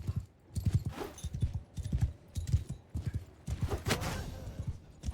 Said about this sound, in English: This horse is fucking speedy.